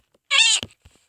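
A single short, bright cat meow from the video game Minecraft PE, crisp and close, followed by a soft thump and faint clicks in otherwise near silence.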